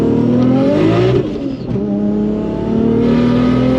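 A Honda Acty engine pulls hard under acceleration with the turbo spooling, a loud continuous rising drone that dips briefly midway before building again, close and alone.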